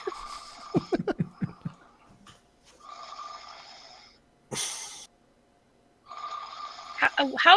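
A person imitates a man snoring with a series of rough, rasping snorts and wheezy breaths, loud and close, broken by pauses and a short sharp noise.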